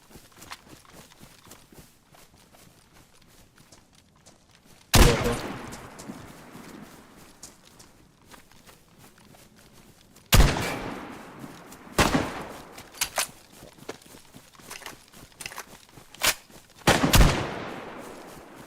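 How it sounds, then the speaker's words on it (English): Gunfire from a shooter video game comes in several sharp bursts, with quiet stretches between them and a cluster of rapid shots near the end. "I'm just gonna drain all my ammo, huh?"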